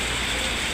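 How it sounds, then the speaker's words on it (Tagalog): Heavy rain pouring down in Piela on the way to barangay Sampaloc 3, a steady dense hiss of downpour filling the whole moment without letting up, close and loud, no voices. "Malakas ang ulan"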